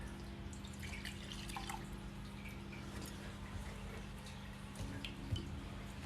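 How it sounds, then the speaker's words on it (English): Hot water drips from an Origami Air coffee dripper into a server, faint and steady, with scattered soft drops over a low background hum. "I'm just going to use this water to preheat our cup or whatever we're using to drink from"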